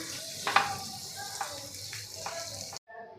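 Eggs frying in a pan for a Marathi-style egg bhaji give off a steady sizzling hiss with a few brief clinks, running near and fairly loud before cutting off abruptly near the end.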